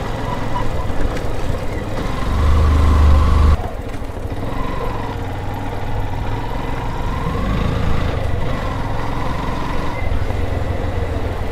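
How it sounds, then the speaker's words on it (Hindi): A motorcycle starts and settles into a steady idle close by in a village, the engine note jumping on ignition, then running evenly with a low, continuous rumble. "Bike start."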